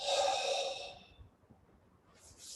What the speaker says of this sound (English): Breathe in. Exhale.